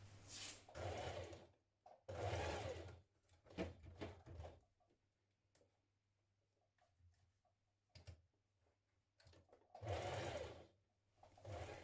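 Sewing machine stitching a teddy bear's foot to its leg, running in several short bursts of rapid whirring separated by quiet pauses and small handling clicks.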